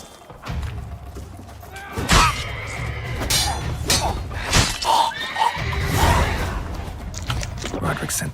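Horses neigh and whinny in a fantasy video game amid chaotic action, loud and close, with thuds, impacts and shattering sounds mixed in and a voice speaking over parts of it.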